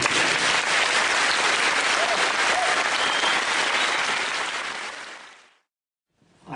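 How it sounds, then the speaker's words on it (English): A seated audience gives sustained, dense applause that fades away toward the end, then drops into near silence before another sound briefly begins. "Please give an applause to Mr. Fresco, a revolutionary of our times,"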